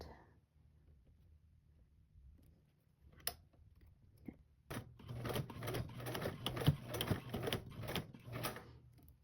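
A sewing machine runs steadily while box stitching along a ruler laid beside the needle, its rapid, even mechanical chatter starting after a few seconds of quiet handling noise and continuing close up to the end.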